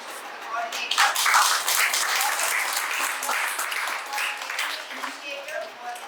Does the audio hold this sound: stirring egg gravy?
no